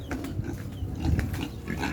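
Two pigs kept at a rural provincial home grunt and snort close by in a continuous low, rough rumble of overlapping grunts.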